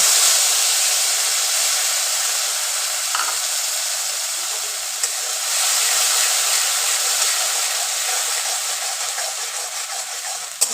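Poppy seed paste fries in a pan for a Bengali pabda fish curry, giving a steady, close, bright sizzling hiss that holds for the whole stretch with small crackles and no talking.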